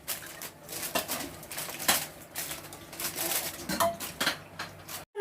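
A lid goes onto a pot of semiya vermicelli pulao with a run of close, bright metallic clanks and rattles, irregular and loud, with no talking.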